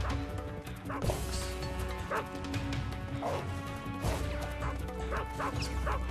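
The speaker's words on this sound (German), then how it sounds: "Mich verfolgen ja Hunde." Dogs chasing the player in Metal Gear Solid 3 bark in repeated short yaps over game music, with thuds and crashes mixed in, moderately loud and fairly busy.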